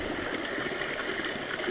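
A mountain stream rushes over rocks at a trail water crossing on the Baldface Circle Trail in the White Mountains, a steady, close hiss of flowing water with no voices.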